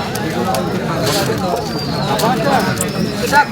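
Pigeons coo at a busy pigeon market in Nazirpur, soft repeated calls close and farther off over steady crowd murmur, with people talking nearby.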